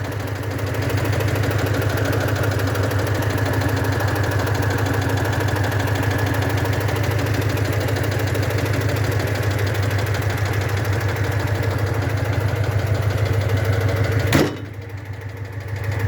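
The original engine of a 1973 Citroen 2CV idles steadily with a low, even chugging hum, close and constant, then cuts out abruptly near the end.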